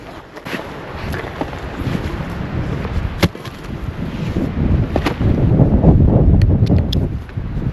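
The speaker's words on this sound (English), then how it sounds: "Still a little windy." Steady wind at a campsite buffets and roars against the microphone, building louder toward the end, with scattered faint knocks and rustles.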